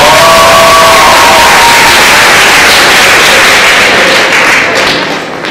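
A large crowd roars with loud cheering and applause, a dense continuous wall of noise that eases off slightly at the very end.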